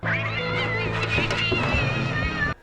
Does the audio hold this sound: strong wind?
no